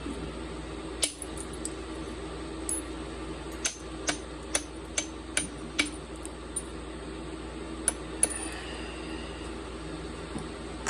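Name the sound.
hammer hitting metal while thinning percussion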